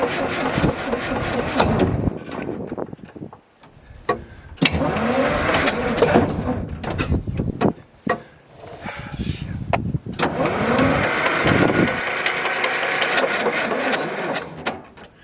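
A vintage Cat D7 dozer engine, first start after 10 years, cranks in repeated rough bursts and catches into an uneven mechanical clatter, loud and close, with brief pauses and short sharp knocks between attempts.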